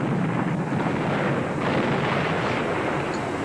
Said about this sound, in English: We're bombing targets around Hanoi.